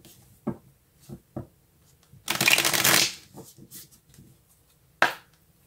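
A deck of tarot cards riffles in one brisk shuffle lasting under a second, close and crisp, set among soft taps and clicks of cards being handled on a table.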